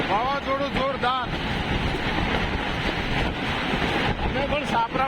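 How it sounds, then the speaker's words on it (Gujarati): Strong gusty wind during a storm with hail and rain over a papaya-farming area, roaring and buffeting the microphone continuously while a person talks over it. "બધા જુઓ જેવો પવન જાય રહ્યો"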